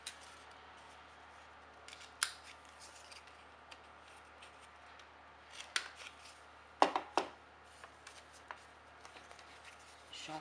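Scissors snipping rounded corners on a paper tab for a tropical hut craft, giving faint scattered clicks and a few sharper snips over a quiet background, with soft talk in places.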